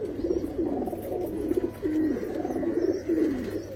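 Kalshira Andhra racing pigeons in a loft in West Bengal coo in steady, repeated low rolling phrases, close and continuous with no talk.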